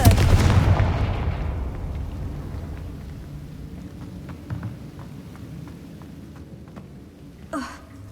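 A loud, deep blast from the Confringo fire spell in the video game Hogwarts Legacy opens the clip, booming low and fading into a rumbling tail, with a brief crackling burst near the end.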